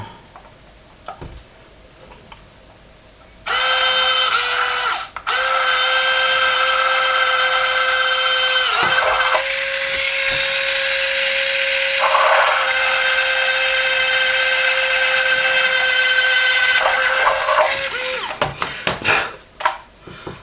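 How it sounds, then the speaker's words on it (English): A small rotary drill drilling out holes in a plastic model aircraft kit whines steadily for long stretches, its pitch dipping briefly as it bites, with short pauses and faint handling clicks around it. "I'm going to drill these out."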